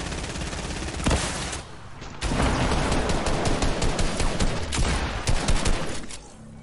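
Rockets firing in the Fortnite video game: a burst of loud, dense blasts and explosions crowding together close up, with heavy rumbling impacts stretching across several seconds.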